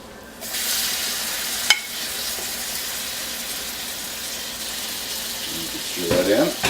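Shallot and mushroom mixture being stirred into a flour roux in a pan for lobster thermidor, giving a steady close sizzle and scraping throughout, with a sharp clink near the start and a brief rustle at the end.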